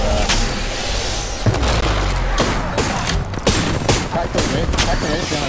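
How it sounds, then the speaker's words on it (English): Heavy Apex Legends gunfire, rapid repeated shots and bursts crackling loud and near across several seconds, with a player talking over the exchange. "I'm taking fire."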